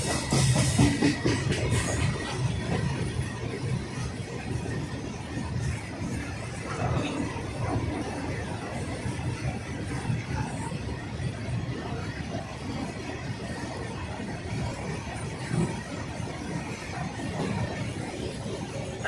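An Indian goods train about 2.5 km long rumbles steadily past at close range, its wheels clattering continuously over the rails with a dense, broadband roar that never lets up.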